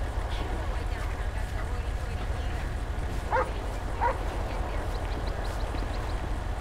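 A police dog in the GTA 5 video game, running a UK police mod during a vehicle search, gives a few short barks over a constant low rumble, with voices talking faintly underneath.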